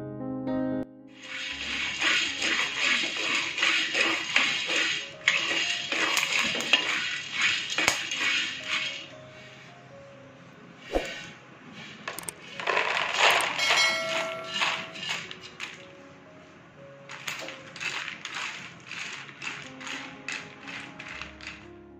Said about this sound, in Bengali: এখন আমি রাজমা ডাল আর চীনাবাদাম একসঙ্গে ভেজে নেব